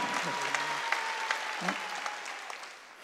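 A church congregation applauds during a sermon, a brief wash of clapping heard under voices.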